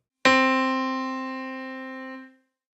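A single bright piano note is struck once and sustains, slowly fading over about two seconds before cutting off.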